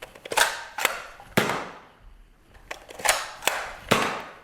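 A Nerf N-Series Agility toy blaster fires darts in a series of sharp, snappy pops, about eight shots in uneven pairs and singles with short pauses, close and crisp with no talking.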